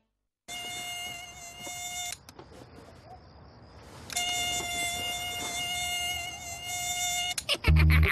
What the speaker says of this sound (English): Are mosquitoes driving you crazy?